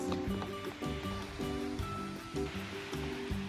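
Mediterranean sea surf rolls in at Salou, Spain, as a steady close wash of water with soft recurring pulses, with no talk over it.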